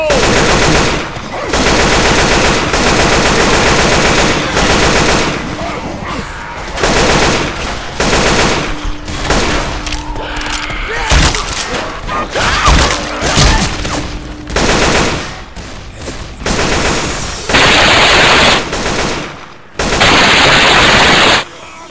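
Loud, sustained automatic AK rifle fire in Left 4 Dead 2, long rattling bursts broken by brief pauses and reload clicks, with other weapons and game chaos mixed in.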